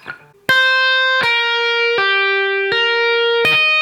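Distorted electric guitar lick played slowly, five separate sustained notes struck about one per second, each ringing bright and full until the next, loud and close with a brief scrape before the first.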